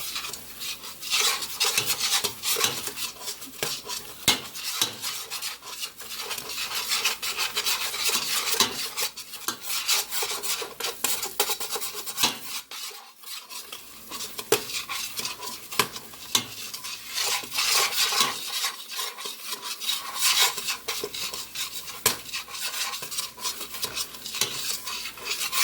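Flour gets stirred into grease in a stovetop pot for a savory pot roast, making a continuous close-up scraping and rasping with some faint sizzling. The strokes are quick and uneven, and no one speaks.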